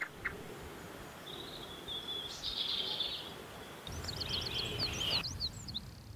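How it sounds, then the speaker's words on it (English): A chiffchaff, a spring migrant, calls outdoors on Lundy in the Bristol Channel, giving repeated short high chirps and a quick sequence of thin notes over a faint steady background. "Increasing numbers of spring migrant birds, like this chiffchaff, come to feed or to breed."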